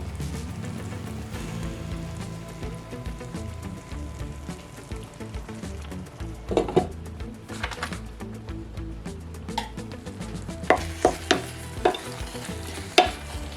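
Vegan chili heating in a pan with cheese melting over the top, a soft continuous sizzle with scattered stirring clatters and scrapes growing busier toward the end.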